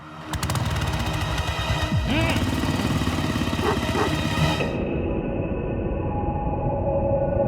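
A motorcycle engine revs and roars nearby, its pitch rising and falling for a few seconds before cutting off to a low rumble.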